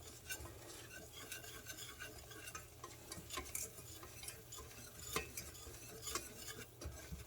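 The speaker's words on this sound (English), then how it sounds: "2 tablespoons of plain flour, in this case gluten-free plain flour, and whisk that into the melted butter." Gluten-free plain flour being whisked into melted butter for a cheese sauce, producing soft rapid clicking and scraping of a whisk against a pan, faint and steady over a low hum.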